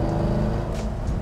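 Corvette C5 Z06, about 20 years old, driving in third gear past semi-trucks, its low engine rumble steady and loud throughout with road and wind noise.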